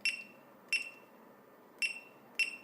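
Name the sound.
reminder alert tone of Retekess TD108 calling system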